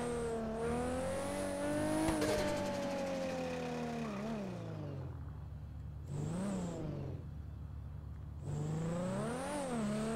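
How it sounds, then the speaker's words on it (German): A sports car engine in the GTA video game idles and revs with a rough, rattling tone, its pitch rising and dipping in several swells, with a tinny high whine layered over the steady rumble. "Mein Auto macht schon wieder ratatatatat im Leerlauf."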